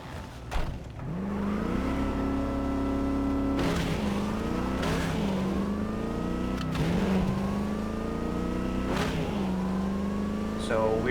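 A car in Cyberpunk 2077 Phantom Liberty drives steadily with a continuous engine drone that rises through several gear shifts. Someone talks over it the whole time.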